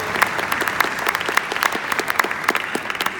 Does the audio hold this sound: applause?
yes